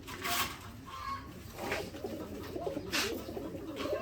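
Pigeons kept with five-day-old squabs coo in soft, repeated low calls at close range, with a faint rustle behind and no talking.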